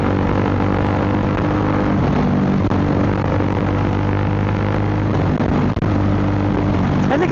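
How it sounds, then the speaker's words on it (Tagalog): A helicopter passes overhead during a motorcycle ride on a Triumph Speed 400, its steady rotor and engine drone continuous and fairly loud throughout, blended with road and wind noise. "Helicopter, oh."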